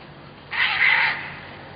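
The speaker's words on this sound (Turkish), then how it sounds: "İnegöl'de bir sokakta iki kedi birbirleriyle kavga etti." Two street cats fighting in a street in İnegöl let out a single loud, harsh yowl or screech that rises suddenly and lasts about half a second, then fades into quiet outdoor background.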